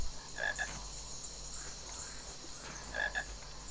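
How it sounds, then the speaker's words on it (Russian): Two short bursts of frog croaks from a Harry Potter and the Philosopher's Stone video game, repeating about two and a half seconds apart over a steady background hum, with no talking. "Лягушка."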